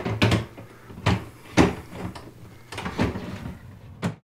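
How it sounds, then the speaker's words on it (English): An IKEA Koppang dresser drawer being slid into place, several wooden knocks and scrapes at irregular intervals, close and fairly loud, ending in a firm bump. "You can slide it in like this."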